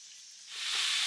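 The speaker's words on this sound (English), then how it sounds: "We got these now searing on the other end." Filet mignon steaks sear in butter in a hot pan after being flipped, with a bright sizzling hiss that swells louder within a second, close and alone.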